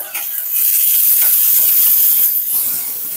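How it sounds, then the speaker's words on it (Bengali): Onion and garlic fry in a pan with a steady, close, loud sizzle and hiss, swelling and easing slightly as they cook, with no talking. "পেঁয়াজ আর রসুনটা একটু লাল লাল করে দিচ্ছি"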